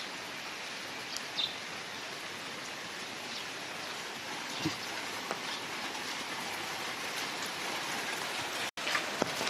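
Steady rain falls throughout, a dense even hiss with scattered individual drop impacts, with no voices.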